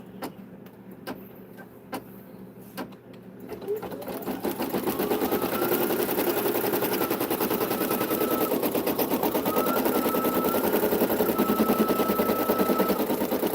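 An embroidery machine starts with several clicks, then runs up into a loud, continuous rapid stitching clatter that holds steady and close for the rest of the stretch.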